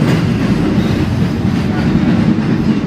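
Boston's Red Line subway train rumbles past at Fort Point Channel, a loud, continuous low roar with rail clatter and no break across the whole stretch.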